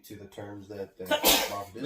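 A sharp, breathy sneeze bursts out loudly right after someone talking, a single close burst of noise that cuts into the speech.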